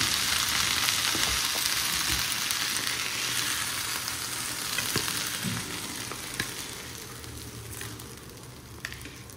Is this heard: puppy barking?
no